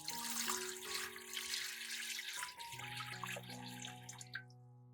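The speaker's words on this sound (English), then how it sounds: "Put the jar in the pot, then pour in water." Water pours and splashes from a tap into a pot holding a jar, steady and close, with the pitch shifting as it fills; faint music plays underneath.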